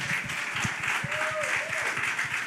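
An audience at a church community outreach session claps in a steady rhythm, moderately distant and continuous, while a voice carries over the applause.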